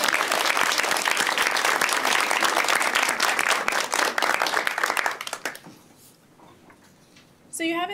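Applause from an audience of new students and guests at a January white coat ceremony, loud and dense for about five seconds, then fading to a quiet room before a brief burst of noise at the end.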